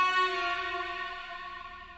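Sustained bowed strings soaked in Valhalla reverb with a stereo enhancer, a single lush chord fading out over two quiet seconds.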